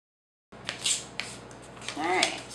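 Scissors snip through a paper pattern for a Worbla mermaid bracer, a few short crisp cuts and rustles at close range, with faint talk in the background.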